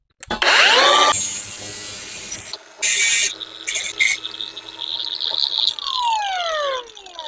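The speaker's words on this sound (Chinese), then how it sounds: "角磨机装电池，开始切割" A battery angle grinder cuts through a small square steel tube in bursts, screeching loud and close with harsh high grinding that stops and restarts several times before winding down.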